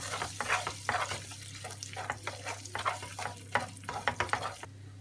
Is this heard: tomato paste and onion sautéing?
yes